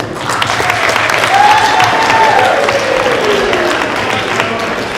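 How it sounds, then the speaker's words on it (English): Audience at a student award program applauding: loud, sustained clapping from a crowd filling the room, with a murmur of voices underneath. "big round of applause for everyone"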